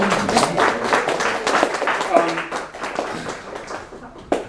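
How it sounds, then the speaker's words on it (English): Audience at a poetry reading in a New York City venue applauds in a dense, sustained burst of overlapping claps that slowly thins toward the end, with voices mixed in beneath. "I think you should all give yourselves a round of applause as well"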